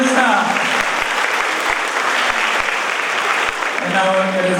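A school opening assembly audience applauds a young first grader, giving steady, full applause throughout with a voice speaking over it at the beginning and end.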